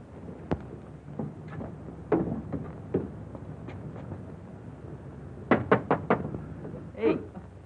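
Knocking on a door in a 1942 East Side Kids film set in Brooklyn: scattered single raps, then a quick burst of four or five sharp knocks, over a faint hissy room background.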